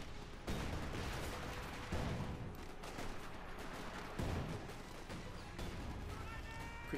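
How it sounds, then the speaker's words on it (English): Artillery and gunfire in a Company of Heroes 2 1v1 match thud and crack repeatedly, with heavy blasts landing every second or so and smaller shots in between, while a commentator talks over the action. "Sturmtiger there getting to work reloading. Artillery fire there"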